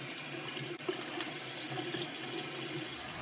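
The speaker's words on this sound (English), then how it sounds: "I give it another good rinse" Running tap water pours steadily over a glass mug during glass etching cleanup, a close, continuous hissing splash with slight changes as the mug shifts under the stream, no talk.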